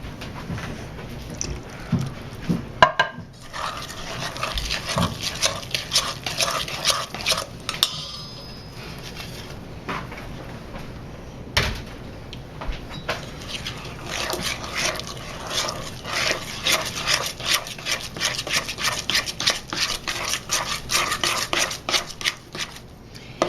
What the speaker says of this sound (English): mix it until it's a good consistency to spread on the dough